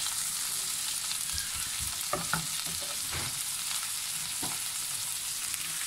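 Beef steak sizzles steadily in a pan with garlic and butter, a loud continuous hiss of frying with a few soft knocks and shifts partway through, and no voices.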